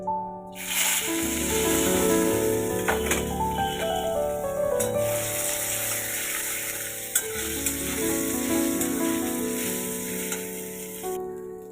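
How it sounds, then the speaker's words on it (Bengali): Steamed raw mango pieces drop into hot oil with panch phoron, setting off a loud, steady sizzle and crackle of frying that continues with stirring clatter and no talk. "আগের থেকে ভাপিয়ে নেওয়া কাঁচা আমের টুকরোগুলো এই তেলের মধ্যে আমি ছেড়ে দিচ্ছি"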